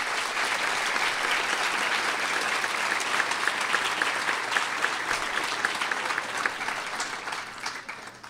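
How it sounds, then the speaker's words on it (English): Sustained audience applause at a garden awards ceremony, a dense steady wash of many hands clapping from start to finish, tapering slightly in the last second. "Please join me in a round of applause for them."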